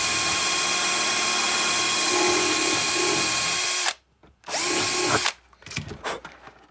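Power drill boring a hole through a helmet shell: a loud, steady high whine for several seconds, a brief stop, a short second burst, then uneven trailing grinding bursts, close up with no voices.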